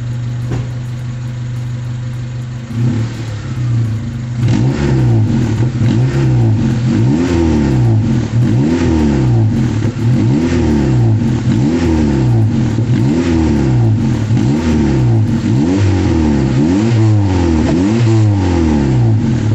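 Daihatsu Taruna engine after a top overhaul, at night: a steady idle, then a loud, close, repeated rise and fall of revving that continues to the end, with no voices.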